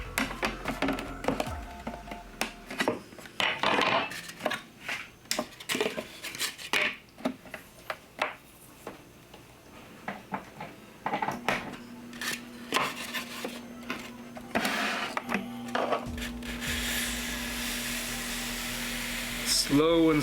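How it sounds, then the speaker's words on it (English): A Proxxon power saw cuts miniature trim pieces for model buildings: scattered scraping and handling clatter, then from about midway a steady motor hum with harsh cutting noise that grows louder near the end. "Let's bring over the Proxxon and let's get some pieces cut."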